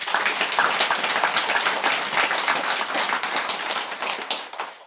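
Brisk applause from an audience at a Buddhist dharma talk, many hands clapping densely and steadily at close range, holding strong and then tapering slightly at the end.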